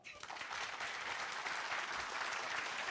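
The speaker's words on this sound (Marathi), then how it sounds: "टीम मोठे भाऊ बहीण टाळ्या वाजवा." Audience clapping steadily at a live comedy show with crowd interaction, dense and loud applause that starts almost immediately and holds for the full three seconds with no talk over it.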